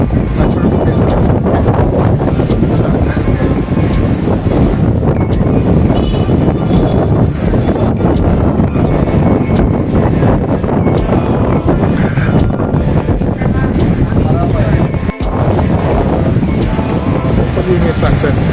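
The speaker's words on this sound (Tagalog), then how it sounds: "So, malakas ang hangin." Strong wind roars steadily across a Boracay beach with sailboats offshore, buffeting the microphone in a dense, continuous rush for the whole stretch, with faint voices mixed underneath.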